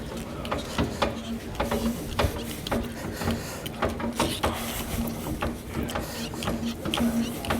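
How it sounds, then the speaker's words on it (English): Lippert Strong Arm stabilizer jack lowering on a 2022 Jayco Jay Feather travel trailer, giving a steady mechanical whir with repeated ratcheting clicks and clunks, fairly close and alone throughout. "So if we notice while we're lowering the jack, you can see that inner arm actually extend out of the outer tube there."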